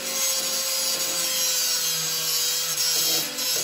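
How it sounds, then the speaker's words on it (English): A support bracket being cut off under a 1968 Dodge Charger, heard as a loud, steady grinding and rasping cut that runs without a break, with no talking. "I went ahead and just cut off the support bracket."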